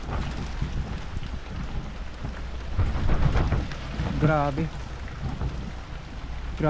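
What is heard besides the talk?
typhoon rain and thunder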